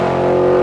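A 2011–2014 Ford Mustang GT with a Borla S-Type exhaust lets out a brief, loud, close rumbling rev, holding a steady deep engine note.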